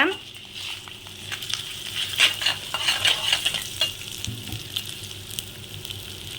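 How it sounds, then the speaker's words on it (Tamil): Chana dal, black pepper and coriander seeds dry-roasting in a pan for wedding-style sambar, with a steady soft crackle and repeated scraping and clinking as they are stirred, close and moderately loud. "அடுத்து கடலப்பருப்பு, மிளகு, மல்லி எல்லாத்தையும் போட்டு வறுத்து எடுத்துக்கோங்க."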